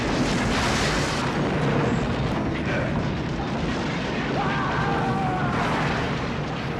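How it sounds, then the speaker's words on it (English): A huge movie explosion from Lethal Weapon 3 fills the space with a loud, sustained roaring rumble and crackling debris, staying dense and heavy the whole time with no talking. "it was the explosion in 3 that stood out in my mind as really outstanding"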